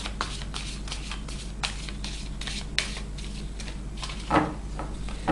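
A new deck of tarot cards is shuffled for a quick love reading, soft continuous riffling and rubbing of cards, close and quiet, with a slightly louder shuffle near the end.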